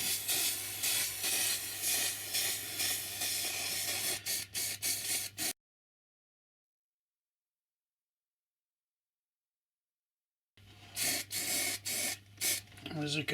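Rail Match sleeper grime paint sprayed onto a model railway track makes a steady close hiss in two long bursts separated by a silent gap, with faint talk underneath.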